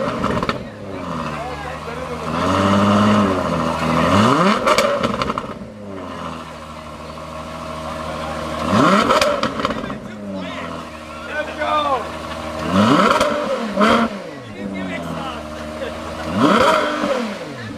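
Brand-new 2026 Ferrari 12Cilindri Spider engine revving repeatedly, loud and close, each sharp rise and fall in pitch separated by short idling gaps, with people talking in between.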